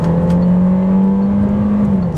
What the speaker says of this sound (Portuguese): Estão vendo que o carro ganha velocidade muito rápido